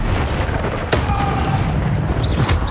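A Bombarda spell explodes in Hogwarts Legacy on PS5, a loud booming blast with a rumbling tail and a few sharp follow-up bursts.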